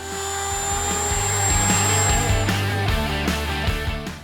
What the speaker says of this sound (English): I'm gonna use a Dremel with a sanding wheel to do this.